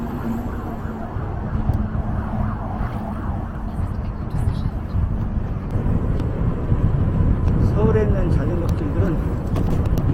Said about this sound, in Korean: 올림픽도로나 강변북로하고 계속 근접해 있어서 차 소리가 좀 많이 납니다